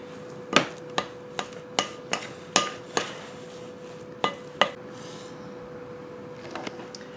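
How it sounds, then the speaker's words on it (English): A spoon clinks and knocks against a bowl while mashed potatoes are mixed with flour and cheese, giving about ten sharp, irregular taps over a soft background, then a quieter stretch at the end. "We just need to mix this long enough that the flour and the cheese are incorporated with the potatoes."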